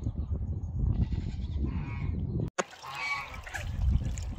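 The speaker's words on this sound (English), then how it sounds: "Don't know why this peacock is so interested in this goose laying her egg." A domestic goose honks repeatedly while laying an egg in a barn, with a peacock close by; nearby, fairly faint calls over a quiet background, broken by a sharp knock partway through.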